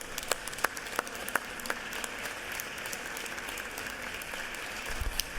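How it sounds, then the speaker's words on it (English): Legislators in a state House chamber give a round of applause for visiting students, a steady distant wash of many hands with a few sharper individual claps standing out near the start. "members, if you're willing, please join me in a round of applause for these outstanding students"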